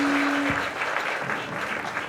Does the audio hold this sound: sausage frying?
no